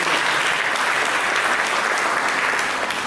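A church congregation applauds for Jesus during a sermon, a dense, steady wash of many hands clapping throughout, loud and close with no voices rising above it.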